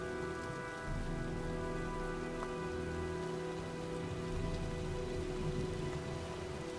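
Rainstorm in a video game, steady rain pattering on surfaces at a constant, moderate level, with a faint tonal hum beneath, no voices.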